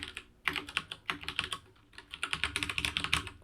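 Rapid, close typing on a computer keyboard, with steady clicking keystrokes in short bursts and no voices.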